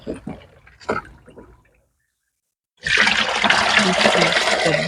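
Homemade organic pesticide liquid pours through a net filter in a loud, rushing splash that starts abruptly after a few soft knocks and a short silence, then continues steadily.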